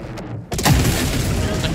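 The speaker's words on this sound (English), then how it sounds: "deceptively small explosion, actually." A deceptively small mini-nuke explosion in the Helldivers 2 video game: a sudden loud boom that rolls into a sustained rumble, with players talking over it.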